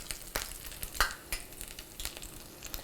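A chicken flauta fries in hot oil, giving a faint steady sizzle broken by scattered pops and crackles.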